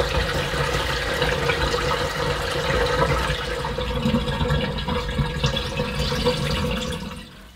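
Water pouring steadily into the tub of a Tefal Washboy portable washing machine, a continuous loud rushing fill that runs unbroken for several seconds before cutting off.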